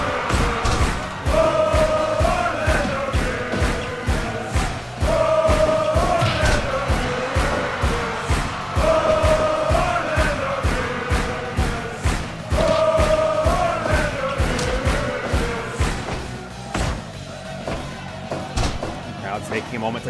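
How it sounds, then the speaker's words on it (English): A wrestling crowd roars and chants in a steady, rhythmic swell, with loud rhythmic thumps like stomping or clapping running through it and a commentator talking over the top. "This crowd already making it known."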